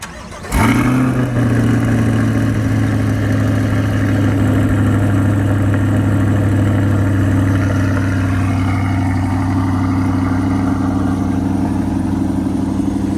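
A Chevrolet C8 Corvette engine fires up with a sharp startup burst, then settles into a steady, loud, close idle with a deep, even drone that holds for the rest of the clip.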